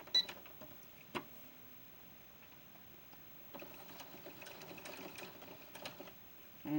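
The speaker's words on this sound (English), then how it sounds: "And here I'm just stay stitching." A sewing machine runs quietly, stay stitching a ball-jointed doll's Peter Pan collar blouse, with a soft, steady mechanical whir and faint ticking that picks up in the latter half, after a few light clicks.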